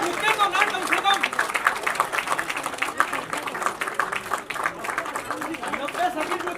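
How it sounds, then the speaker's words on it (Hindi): A crowd at a biography event with a cake cutting applauses continuously and at length, with a dense patter of clapping mixed with excited voices and chatter throughout. "तालियां"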